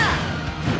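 A fire-powered Smash Flare smash attack lands in Super Smash Bros Ultimate: one sharp, loud crashing impact with a swishing burst, brief and up close.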